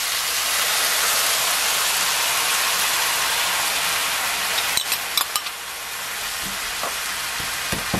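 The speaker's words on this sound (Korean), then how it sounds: "이제 앞뒤로 한번 구운 데다가 이렇게 뿌렸습니다" Gochujang sauce poured over pan-grilled deodeok root on low heat hisses in a loud, steady sizzle, then eases into sputtering with a few sharp crackles and taps near the end.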